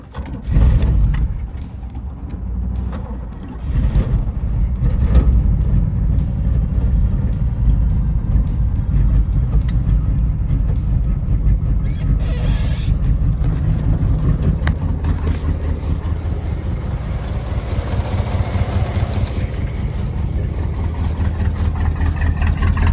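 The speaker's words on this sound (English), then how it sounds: "1983 Chevy Camaro Z28 5-liter HO." A 1983 Chevy Camaro Z28 with the 5-liter HO V8 runs on fuel poured down the carburetor, its loud, steady low rumble sustained close by with no one talking.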